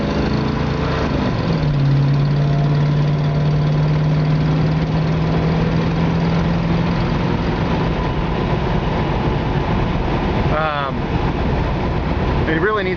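A 1970 Mustang Fastback engine with an exhaust leak runs steadily and loudly close by, a continuous rough drone that holds throughout with a faint rising whine near the end.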